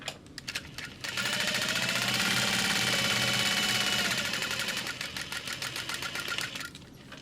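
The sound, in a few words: sewing machine top stitching a mini backpack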